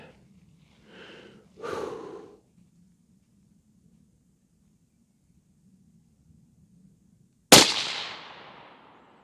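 A single sharp report from a suppressed Remington 700 rifle in .223 cracks loud and close near the end, with a short fading tail; quiet breathing and rustling come before it.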